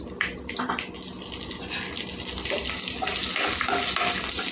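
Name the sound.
dried red chillies frying in oil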